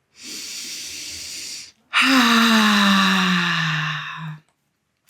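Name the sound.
lion's breath exhale ha sound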